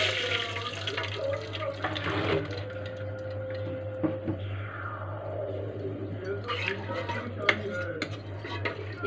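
Water poured into a cooking pan over fried grated ginger and finely chopped chilli while making semolina and potato kachori, a steady running splash lasting several seconds with faint clatter, no voice over it.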